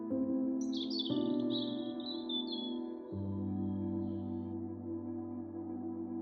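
A robin sings a brief run of bright, high chirps and trills that fade out midway, floating over soft, sustained musical notes.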